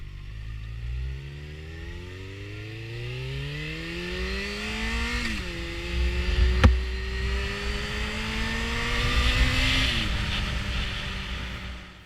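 Yamaha XJ6 motorcycle being ridden in sunshine, engine pulling up through the revs with audible gear changes between climbs, moderately loud with wind and road noise and no talking.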